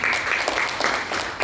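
An audience at a marketing plan presentation breaks into applause, a brief, dense burst of clapping that holds steady throughout.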